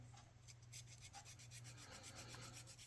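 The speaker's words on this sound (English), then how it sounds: "So we want to go ahead and sand." A small wooden part of a Model Shipways dory model boat is sanded by hand, making a faint rapid rasping rub in quick repeated strokes over a low background hum.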